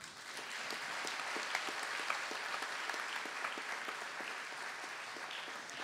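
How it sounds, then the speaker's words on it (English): Steady applause from an audience at an arangetram dance performance, dense and continuous with individual claps standing out, moderately distant and sustained throughout without speech. "Ravi needs the biggest applause."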